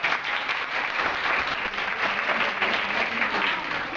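Dense audience applause fills a hall at a Karachi salt factory visit by a University of Karachi Islamic department group, a continuous even wash of many hands clapping at moderate volume with no speech over it.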